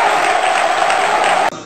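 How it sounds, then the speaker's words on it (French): An audience gives a dense, steady round of applause with some faint cheering, cutting off abruptly at the end. "Applaudissons pour papa Samuel Eto'o et que son rêve se réalise."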